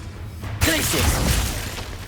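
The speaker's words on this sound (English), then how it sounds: "Glacius." Glacius ice spell cast in Hogwarts Legacy gives a sudden crackling, shattering burst that swells after a brief quiet lead-in and then sustains as a bright, dense icy hiss over low rumble.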